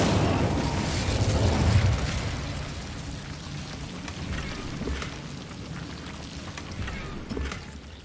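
The Incendio fire spell goes off in Hogwarts Legacy with a rumbling burst and a crackling, rain-like roar of flames that swells early, then lingers and flickers at a lower level.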